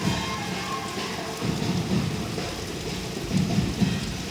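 Heavy monsoon downpour with thunder: a dense, steady roar of rain carries throughout, with low thunder rumbles swelling near the middle and again toward the end.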